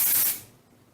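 Hair spray hisses out in one short, close burst lasting about a third of a second, then cuts off into quiet.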